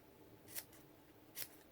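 Scissors snip by hand through paper to cut fringes for a stamped card and treat bag, two short crisp snips about a second apart, quiet and close with no talking.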